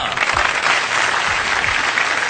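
Loud enthusiastic clapping from a television studio audience after a child's mental arithmetic performance, a dense, fast, continuous patter of many hands close by, with no speech over it.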